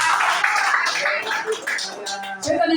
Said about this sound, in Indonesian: Tepuk tangan untuk Bapak semua.